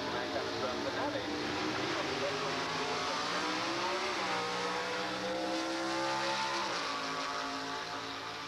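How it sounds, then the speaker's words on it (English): Loud, continuous roar of a 1956 Chevy drag race car as it launches and charges down the drag strip toward the listener, the engine note shifting pitch partway through, with an announcer's voice talking over it. "The Malone 56 Chevy moving at you"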